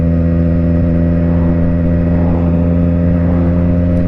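A V7 motorcycle fitted with aftermarket exhaust pipes accelerates on an open road, a loud, steady engine drone with strong low harmonics and a gradual rise in pitch, heard close with no voices.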